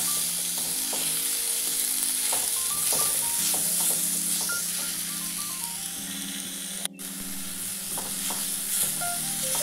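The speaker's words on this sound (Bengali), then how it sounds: "এর সাথে একটু নেড়ে চেড়ে নেব।" Karamcha, halved and seeded, stirred in a pan over steady frying sizzle, with scraping of the spatula against the pan and a single sharp clack partway through; no talk.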